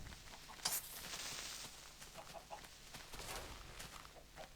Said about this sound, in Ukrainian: коли я зажену цих курей в загін, знову повернусь